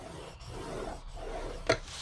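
Scoring tool drags along a cardstock sheet being creased for a cookie box, producing soft rasping strokes close by with a sharp tap near the end.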